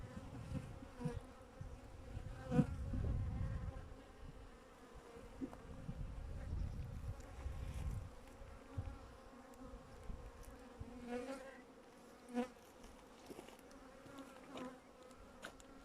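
Honey bees buzz in front of a hive, a dense continuous drone from many insects with individual bees swelling louder as they pass close, steady throughout with no voices.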